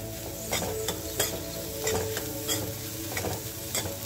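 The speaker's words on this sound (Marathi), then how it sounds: "दोन मिनिटं कोथिंबीर टाकल्यावर परतून घ्यायचं." Egg bhurji curry being sautéed with fresh coriander in a pan, a steady sizzle broken by repeated spatula stirs and scrapes, roughly one every half second, close and moderately loud with no talking.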